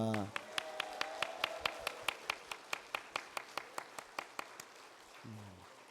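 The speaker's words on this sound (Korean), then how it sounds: "우리 RK팀 고생하셨다고 우리 박수 한번 보내겠습니다" A church congregation claps in steady rhythmic unison for the RK team during a Sunday service, about two dozen sharp even claps with a voice briefly at the start and end.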